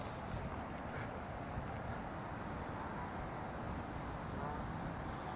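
Steady breezy wind blowing at the seaside by a boating lake in Skegness in September, a constant broadband rush buffeting the microphone throughout with no clear gusts standing out.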